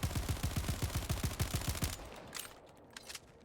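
A pistol firing in the video game Helldivers 2, a fast run of about fifteen sharp, evenly spaced shots over two seconds, followed by quieter game sounds.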